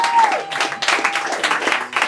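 A crowd at a spoken-word and beatbox show in a bar applauds for a short burst, brisk overlapping claps filling the room with no one talking over them.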